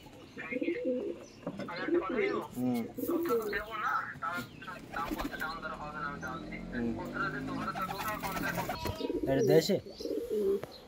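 Pigeons coo in soft, rolling calls that sit largely under steady, close conversation between several people.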